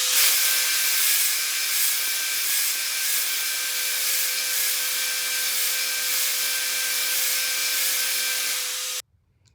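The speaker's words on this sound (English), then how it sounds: "Or I'll sand all this off and we'll see how good it looks." Steady abrasive rubbing as super glue is sanded off a wooden guitar neck around brass tubing dot inlays, a continuous close scratch that runs unbroken for nearly the whole stretch and then stops abruptly.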